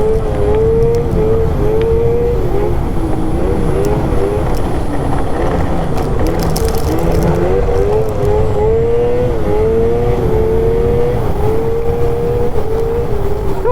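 An Arctic Cat Catalyst 858 snowmobile sliding through slush on an unstudded track; a loud, close engine drone holds steady for the whole stretch, its pitch wavering slightly with throttle, while the machine rides on and no one speaks.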